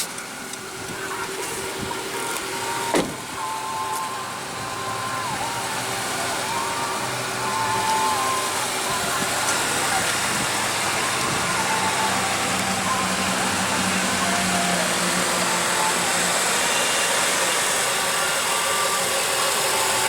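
A 2014 Honda CR-V's 2.4 L four-cylinder engine idles steadily just after start-up, a close, even mid-pitched hum with a brief knock near the start and no talking.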